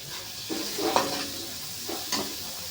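Onion for chicken adobo fries quietly in a pan, a soft sizzle broken by a few scraping stirs that come in short bursts.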